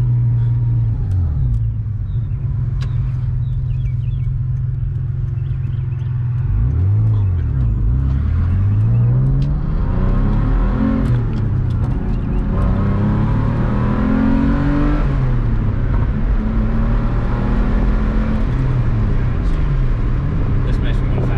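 A manual-swapped Subaru SVX engine rumbles and revs as the car accelerates, the engine note rising and falling through gear changes while people talk inside the cabin.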